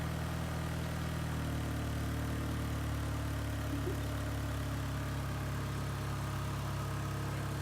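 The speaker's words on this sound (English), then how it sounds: "It's a car." A car engine, on an HHR build, idles steadily with a low, even hum and rumble that stays constant throughout, near and alone with no talking.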